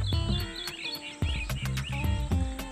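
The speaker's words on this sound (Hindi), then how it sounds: "एक परिंदा इधर भी बोलता पे, देखो सुनो इंजॉय करो" A bird chirps repeatedly in short, bright calls over a steady hum and scattered clicks, fairly close by, on a village morning beside harvested crop fields.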